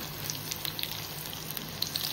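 A second batch of corn bhaji frying in hot oil: a steady, soft sizzle with scattered small pops and crackles, moderately close and continuous, with no talk over it.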